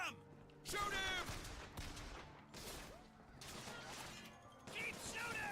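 Gunfire from a firefight in BioShock Infinite, repeated bursts and impacts in several loud waves, mixed with shouting voices and crashing sounds.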